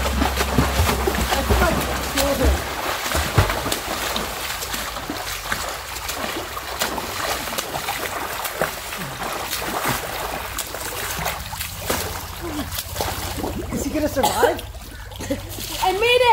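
A person swimming a pool lap with eyes closed, continuous close splashing and churning water for the whole stretch, with voices calling out over it.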